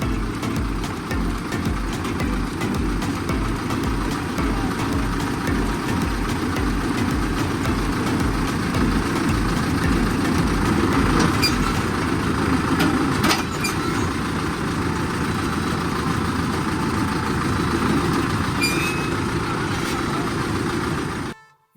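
A tractor engine idles in a field for about twenty seconds, a steady, loud, low rumble with faint knocks and clatter, ending in a quick fade.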